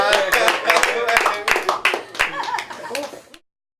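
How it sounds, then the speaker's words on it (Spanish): A small group claps briefly, a burst of uneven hand claps mixed with overlapping voices before it stops abruptly. "Un aplauso por ustedes."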